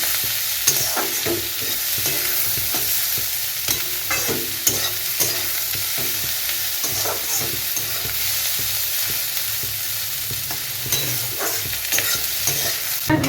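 Chopped onions fry in oil for an egg curry, giving a steady, loud sizzle that runs throughout, with scattered clicks and scrapes from stirring and no voices.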